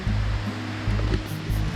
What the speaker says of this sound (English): There's the creek there.